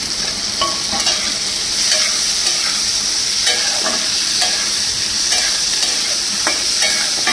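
Tomato goes into a frying pan for a chickpea curry (cholar kosha) and is stirred, giving a bright steady sizzle broken by repeated scraping strokes of a spoon, loud and close, with no speech.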